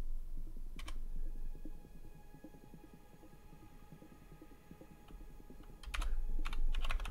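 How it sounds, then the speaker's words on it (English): Steady, close typing on a computer keyboard, with rapid soft key clicks running continuously over a faint background hum, growing slightly louder near the end. "I'm typing this comment while recording"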